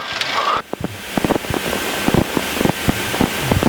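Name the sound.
wind gusts during a crosswind landing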